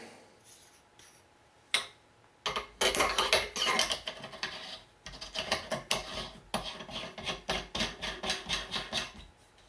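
Metal barrel nut threaded by hand onto an AR-15 upper receiver, heard as close, scraping metallic rasps and clicks in quick repeated bursts, with no talking.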